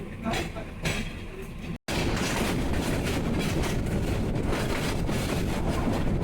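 Parabat Express passenger train running after departing Kamalapur station in Dhaka, a steady loud rumble of wheels and carriage noise with clickety-clack, broken by one very brief dropout near the start, continuous throughout.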